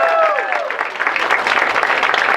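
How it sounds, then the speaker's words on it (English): A crowd at a Sheetz store opening in Michigan breaks into applause for the Chamber of Commerce, a fairly loud burst of clapping with a brief whistle-like cheer at the start that carries on evenly. "Let's give a round of applause for the Chamber."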